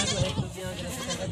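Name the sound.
goats bleating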